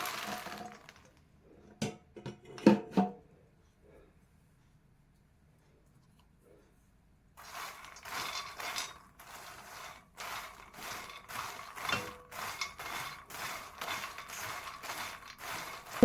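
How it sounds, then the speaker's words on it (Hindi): Makhana (fox nuts) dry roasting in a pan for winter panjiri, a few knocks and scrapes, then a quiet pause, then a long stretch of rapid, rhythmic rattling and scraping as the nuts are stirred close by. "अब हम मखाने भून लेते हैं। खानों को हम ड्राई रोस्ट ही करेंगे।"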